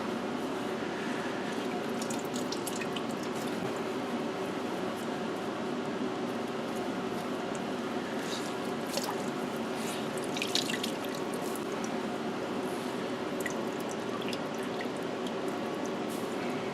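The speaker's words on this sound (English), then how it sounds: "I'm going to pull this out, wring this out" Water drips and splashes from a tie-dye shirt being wrung out by hand, a steady wet trickle with scattered splats and squishing, close and continuous under a faint hum.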